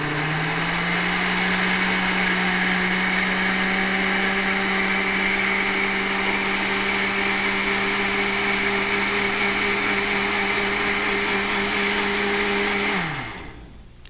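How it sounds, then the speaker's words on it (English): A kitchen blender whirring through pancake batter mixed with vegetables, a loud steady high-pitched motor whine held for about thirteen seconds before spinning down and stopping. "So we're going to blend this really quick."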